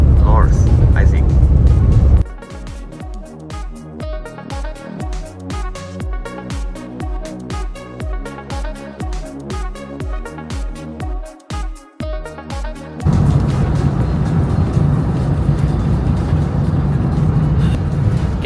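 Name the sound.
car driving on the road, interior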